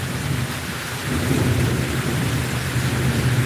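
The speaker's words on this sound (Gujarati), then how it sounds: "પડી વીજળી" A deep, rolling rumble of thunder from a lightning strike over steady heavy rain in Anand, Gujarat, loud and sustained without any voices.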